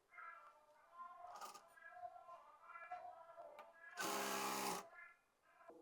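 A sewing machine stitches a panel of a six-panel palazzo, one short loud burst of running stitches standing out after a stretch of a woman explaining.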